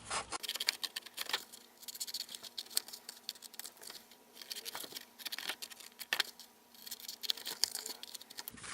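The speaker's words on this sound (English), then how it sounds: "I'm going to go where these corners are at, and I'm going to cut the corners out" Scissors snip the corners out of a paper gift bag in quick, close, crisp cuts with light rustling of the paper between them, and no talking.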